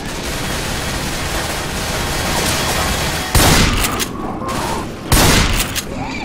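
Gunfire in the Left 4 Dead game, a loud dense barrage of shots over a constant noisy roar, with two sharper, louder bursts standing out near the end.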